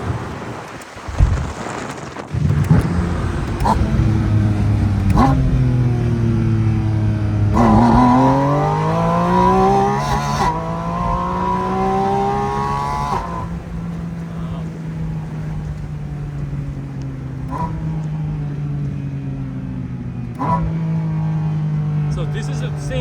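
A Porsche Boxster Spyder RS (982) with its GT3-derived engine, heard from the passenger seat, revving through repeated rising pulls and gear changes, loud and droning inside the open cabin, with wind rush throughout.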